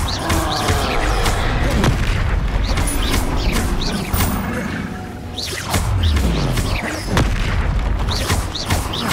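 Repeated blasting-spell explosions in the Hogwarts Legacy video game, loud booms and whooshes landing in quick succession over a continuous roar of combat effects, with no voices.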